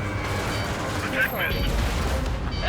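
Missile strikes on an aircraft during an aerial dogfight in Ace Combat 7, flown in an F-14D, with dense rumbling explosions and combat noise under radio chatter and talk.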